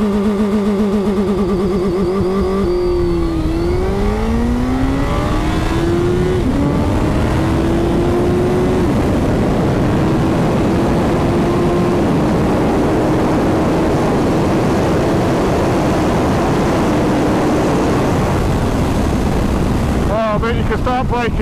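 A Suzuki Hayabusa motorcycle launches hard on launch control, its engine note climbing through several gear changes under heavy, constant wind roar from riding at speed.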